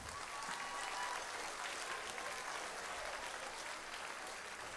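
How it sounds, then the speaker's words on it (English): Audience at a middle school spring band concert applauds the student ensembles, a full, even roar of many clapping hands that holds steady throughout, fairly distant and soft. "How about another round of applause for our ensembles?"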